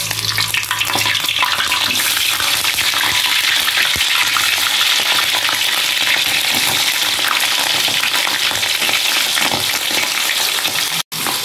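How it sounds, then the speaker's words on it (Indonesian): Chicken pieces frying in hot oil in a home kitchen while making clear soto ayam broth, giving a loud, steady, close sizzle that runs unbroken, with a brief drop near the end. "Kita goreng ayam."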